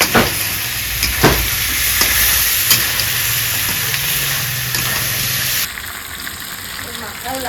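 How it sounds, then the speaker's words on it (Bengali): Chicken stirred and frying in hot oil for a curry, a loud continuous sizzle with scraping stirs of a utensil, close up, and a drop in the hiss near the end; someone talks in the background. "ঢেলে দিয়ে একটু নাড়া, তারপরে মাংস দিয়ে কষাই নেবো।"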